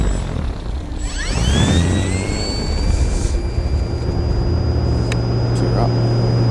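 An RC T-28 Trojan model airplane coming around with full flaps: its motor whine sweeps down in pitch as it passes close by, then settles into a steady, fairly loud drone with outdoor rumble beneath.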